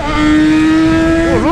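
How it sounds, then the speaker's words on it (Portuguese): Motorcycle engine revving loudly and close by, a sustained high whine that dips and swings back up near the end. "Ah, bichinha, faz barulho essa moto, hein, mano."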